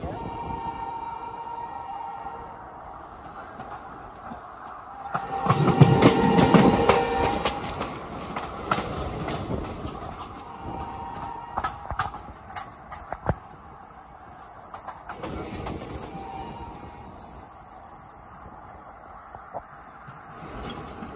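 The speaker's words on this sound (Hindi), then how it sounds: "ट्रेन एकदम राइट टाइम से चल रही है" A passenger train running on schedule near Sultanpur, India, rumbles steadily on its rails, swelling loudest for a couple of seconds near the start and then settling into a continuous rattling drone with faint clicks throughout.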